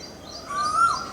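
An Asian koel calls from a treetop in a garden in May, giving a single rising whistled note that swells and fades within a second, fairly clear against a quiet background.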